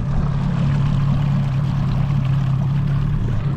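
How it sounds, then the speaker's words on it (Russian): Steady rush of water running along a stream channel beside a Windboat 4.0 boat on a morning fishing trip, a continuous close wash with a low engine-like hum underneath, no voices. "Главное, что вода бежит."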